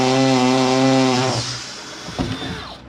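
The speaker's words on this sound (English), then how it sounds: "Drill a hole in wood." Power drill boring a hole in wood while fitting a boat rod mount, a loud steady motor whine for over a second, then winding down, followed by a few scraping knocks as the bit clears.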